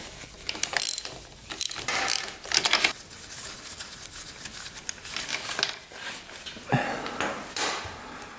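A socket wrench ratchets on a rare 500cc supermoto motorcycle that has sat for 15 years, making bursts of sharp, close clicking separated by brief pauses and handling clatter.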